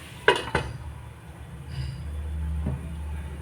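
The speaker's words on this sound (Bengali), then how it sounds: "এবার সামান্য ঢাকা দিয়ে রেখে দিব।" A lid is set on a pot of pumpkin and fish cooking on the stove, making two sharp metallic clinks close together near the start, followed by a low steady background hum.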